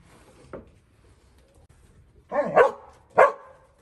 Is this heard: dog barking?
yes